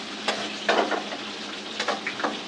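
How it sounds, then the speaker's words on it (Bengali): Onion frying in oil in a pan, a continuous sizzle with several scraping stirs of a utensil at close range. "খুব সুন্দর ভাবে পেঁয়াজটা নাড়তাছি"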